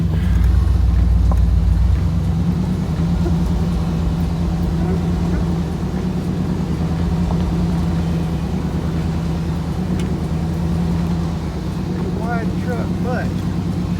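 A truck drives down a rough wooded trail on a farm during springtime deer chores, its engine droning low and steady up close, with wind buffeting the microphone.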